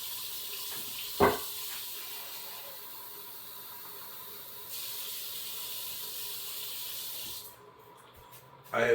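Water runs steadily from a faucet as someone adjusts the temperature, a constant hiss with a sharp knock near the start, a shift in tone midway, and the flow cutting off near the end.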